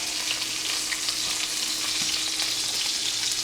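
Thin chicken cutlets fry in a pan for scaloppine di pollo, with a loud, dense, continuous sizzle and crackle up close, a few soft knocks from the pan, and no one speaking.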